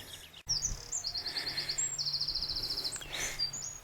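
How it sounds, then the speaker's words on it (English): Songbirds sing in sunny Lake District countryside on a hill walk from Martindale toward Wether Hill, with rapid repeated high trills and scattered chirps ringing clearly over a soft outdoor hiss. "In the Lake District, in the sunshine, plenty of bird life."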